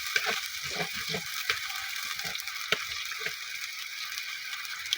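Onions frying and being stirred in a pan, giving a soft continuous sizzle with light spoon scrapes and taps spread through, fairly quiet and close, with no voices.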